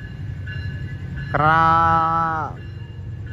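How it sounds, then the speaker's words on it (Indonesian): A local passenger train hauled by a CC 206 diesel locomotive sounds one loud, steady horn blast lasting about a second over a low rumbling engine. "cukup spesial ya, karena menggunakan lokomotif CC 206"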